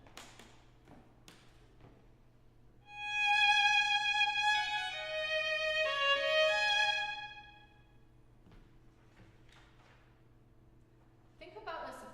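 A short violin phrase played with simple first-position fingerings, rich sustained bowed notes moving step to step in a recital setting, quiet room noise before and after and a faint voice near the end.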